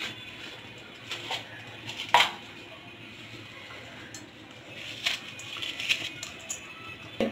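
Onion paste goes into a pan of curry with a small amount of gravy, making sporadic light metallic clinks and taps of a utensil on the pan over a steady hum of room noise.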